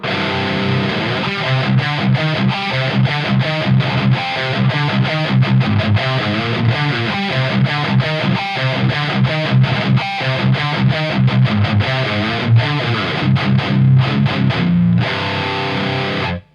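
Heavily distorted electric guitar through a Marshall amp chugs through a loud, continuous heavy metal riff of palm-muted chords, thick and saturated, ending abruptly.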